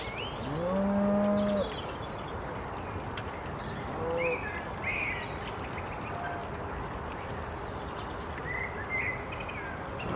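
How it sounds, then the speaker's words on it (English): Cattle moo loudly near the canal boat early in the morning, with two long close calls at the start and another around four seconds. Faint bird calls come and go over a steady rural background hum. "I can hear the cows mooing and the crows as they fly overhead."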